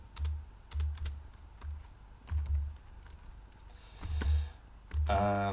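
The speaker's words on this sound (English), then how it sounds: "Okay, so I have to type it over." Bursts of typing on a computer keyboard while entering Haskell code, irregular clusters of key clicks separated by short pauses, close and fairly quiet, ending in a busier rattle of keystrokes.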